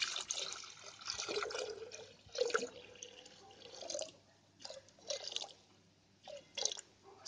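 Water poured and trickling in uneven bursts for homemade fabric softener, splashing and dribbling into a container with short pauses between pours, fairly quiet and close.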